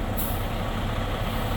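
Long farm trucks are backed out for washing, a loud, continuous low engine rumble with a sharp hiss of air brakes released near the start.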